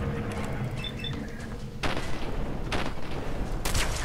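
Shotgun blasts in the video game Fallout 4: three sharp, booming shots spaced about a second apart, heard over a constant low game ambience.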